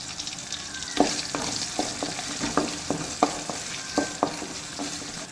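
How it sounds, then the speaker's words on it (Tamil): Onions and curry leaves sautéing in a hot pan, a bright crackling sizzle punctuated by regular sharp spatula scrapes and taps roughly every half second, close and fairly loud. "வெங்காயம் வந்து ஓரளவு வதங்கி வரட்டும். இப்போ இது கூடவே ஒரு கொத்து கருவேப்பிலை ஆட் பண்ணிக்கலாம்"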